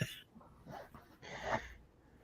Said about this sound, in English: Hear the dog, Jules.